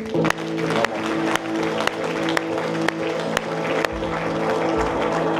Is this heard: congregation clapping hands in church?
yes